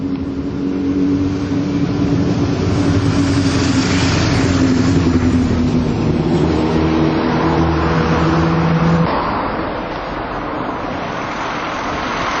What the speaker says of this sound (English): It'd be quite a beautiful place to live if it wasn't for the traffic on the roads.